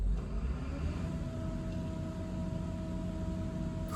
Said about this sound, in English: I thought that was a car. It's a big generator.